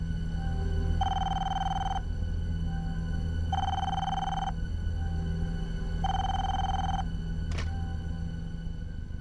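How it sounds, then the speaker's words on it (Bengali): A telephone rings late at night, three evenly spaced electronic ring bursts with short gaps between them, close and clear over a low steady background hum. "এত রাতে আবার কার ফোন?"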